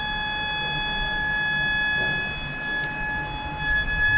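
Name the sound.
hotel fire alarm sounding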